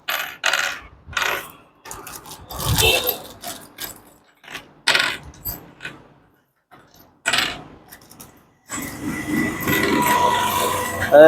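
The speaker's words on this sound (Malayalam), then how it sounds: "നീളം കുറഞ്ഞ നാല് സ്ക്രൂ എടുക്കുക അതിന് പറ്റിയ നാല് ബോൾട്ട് കൊടുക്കുക" Short metal screws and bolts being handled while a saree stand is assembled, a series of clinks, jingles and rattles in separate bursts, close by, ending in a longer rustling clatter.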